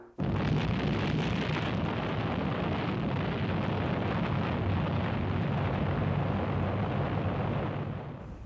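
The 1954 Bravo thermonuclear test explosion, America's largest, sounds as a loud, continuous broadband roar that rumbles without a break for about eight seconds before beginning to fade, with no voices.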